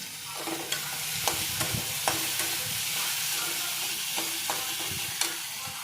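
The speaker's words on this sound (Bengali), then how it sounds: "এদিকে আমি ফুচকাগুলো ভেজে নিলাম, অল্প কাড়া করে ভাজতে হবে" Phuchka puri shells frying in hot oil, a steady loud sizzle with several sharp clicks and taps of stirring scattered through, close up and without talk.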